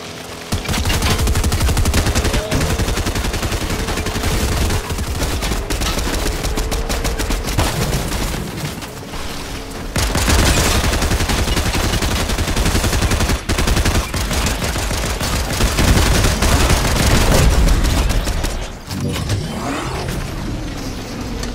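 Gunfire in the video game Fortnite: long, loud stretches of rapid automatic shots mixed with mechanical engine-like rumble, broken by a brief lull near the middle before the firing resumes.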